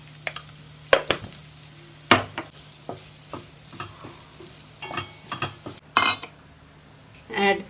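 Spoon scraping and stirring cooked puliyogare tamarind rice around a pan, in a run of distinct clinks and soft scrapes with light sizzling, close and fairly quiet, with no talk.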